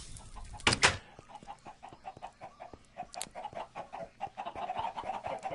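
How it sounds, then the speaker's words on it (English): Several Minecraft chickens cluck in a quick, uneven patter, with a sharp squawk near the start and steady clucking that continues after it. "In this room here, we have chickens, just because. A whole lot of chickens."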